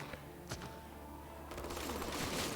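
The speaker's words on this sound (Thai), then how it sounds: "ยิงมันทีเดียวเลยอัดมันแบบนี้" Shooting at zombies in the mobile survival game Dead 4 Returns: a few scattered shots at first, then a denser, sustained burst of gunfire building toward the end, fairly quiet overall.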